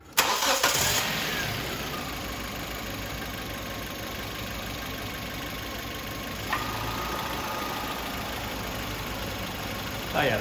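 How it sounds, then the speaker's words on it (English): A 2012 Hyundai Elantra Touring engine cranks and catches at the start, then settles into a steady idle under the open hood during an air conditioning recharge, with a brief click midway and another near the end. "I'm gonna start the car."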